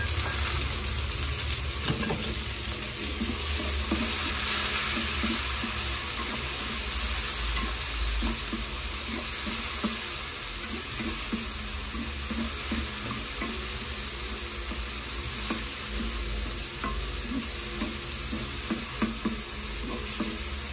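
Tomatoes sauté in a hot pan while ginataang tilapia is being cooked, giving a loud, continuous sizzle and frying crackle with stirring scrapes throughout, close up and without talk.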